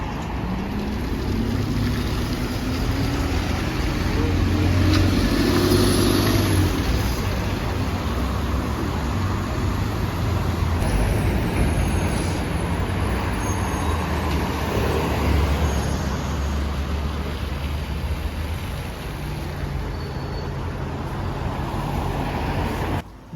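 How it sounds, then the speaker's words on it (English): An Alexander Dennis Enviro 200 single-deck bus, one of the last on London's K3 route, idles and pulls away from a stop, a steady low diesel rumble with broadband roadside noise throughout, close and fairly loud. "as this Enviro 200mm is getting ready to depart, let it go off"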